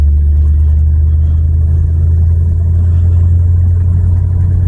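A farm truck's engine drones steadily and loudly in first gear after a shift while driving on rural roads around Hazel, Kentucky, with a strong low hum and no speech.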